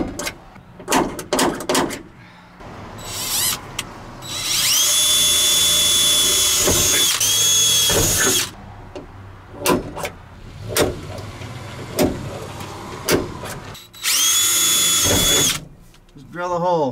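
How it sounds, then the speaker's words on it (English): A power drill whirs loudly in two long bursts, winding up and down, with shorter tool noises and a voice talking between them. "Just drill a hole."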